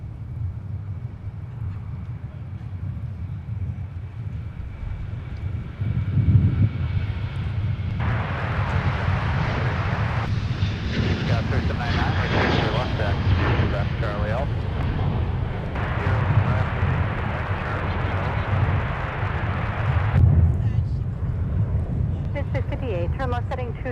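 A departing airliner roars off runway 30 Left at Minneapolis–Saint Paul airport on a windy day, a broad distant rumble that builds and holds, with wind buffeting the microphone throughout.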